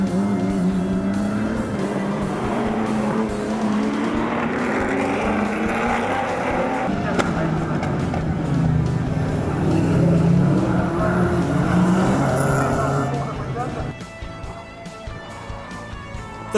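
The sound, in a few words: V8 race car engines rumbling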